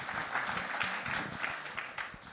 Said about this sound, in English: join me again to give you a round of warm applause to our